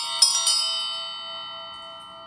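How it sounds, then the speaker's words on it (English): A handheld bell is struck twice in quick succession, then rings on with a clear, bright, slowly fading tone; loud and close, with no talking. "I'm ringing the bell."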